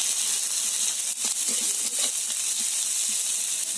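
Two large chopped onions fry in oil in a pan, producing a continuous bright hiss and sizzle, close and even throughout, with no voices.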